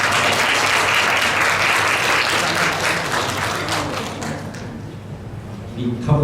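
A large audience applauds at an AI conference event in Korea as a presenter comes up, with dense, steady clapping that thins and fades over the last couple of seconds, ending with some stray noises and a voice.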